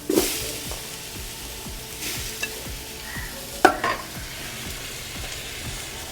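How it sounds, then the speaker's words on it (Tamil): Tomatoes and onions fry together in a pot for a home-cooked biryani, a low steady sizzle with repeated rhythmic scraping strokes of a spoon and a couple of louder clanks, no speech. "தக்காளியும் வெங்காயத்தையும் மிக்ஸ் பண்ணி விடணும்"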